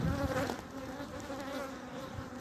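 A low, steady buzzing of male honeybees (drones) hums close by, a drone-like insect drone without pauses, no speech.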